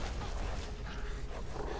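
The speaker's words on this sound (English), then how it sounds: "We don't need dogs." Dogs bark and yip in a tense game scene, several short overlapping calls sitting low in a noisy, rumbling mix rather than up front.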